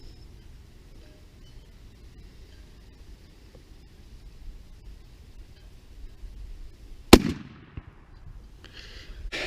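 A single loud shotgun blast from a 3.5 inch Remington Nitro Turkey shell fired outdoors at a 30 yard target, a sharp crack with a short echoing tail after a quiet stretch.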